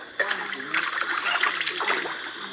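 Water splashes and trickles in a pool held between dams across a river, the sound of someone standing in it, steady and close with small ripples and splatters throughout.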